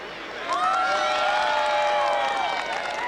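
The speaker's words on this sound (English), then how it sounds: "Everyone clapped," A crowd at a pony show claps and cheers in a sustained, lively wash of applause, with bright whistle-like tones gliding over the noise.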